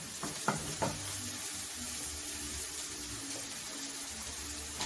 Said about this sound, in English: Now we are going to adding our rice.